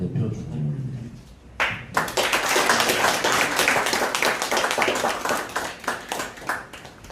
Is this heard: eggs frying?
no